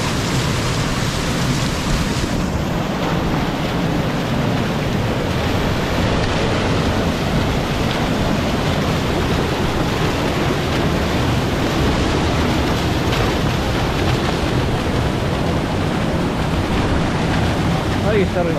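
Water rushes at the Salto del Penitente waterfall, a loud, constant roar of falling water filling the whole stretch at close range with no break.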